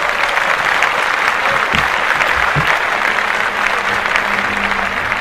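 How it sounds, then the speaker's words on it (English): Audience applause during a podcast taping, a steady, dense roar of clapping that fills the whole stretch at close range and stays loud throughout. "let's clap that up for all of the nominees"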